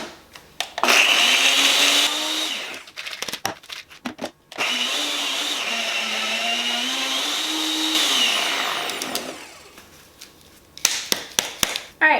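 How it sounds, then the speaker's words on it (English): A kitchen blender grinding Oreo cookies: two long, loud whirring runs broken by pauses, the motor pitch rising and wavering as the crumbs shift, with clattering and knocks between the bursts and at the end. "take it off the blender"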